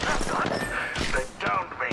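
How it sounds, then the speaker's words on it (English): Apex Legends gunfire in a battle royale match, several bursts of shots arriving over a couple of seconds amid game noise, with a voice speaking over them. "Getting shot at."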